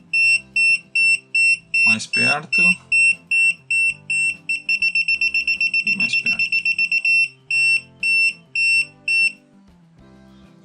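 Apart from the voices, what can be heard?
multimeter non-contact voltage detector beeping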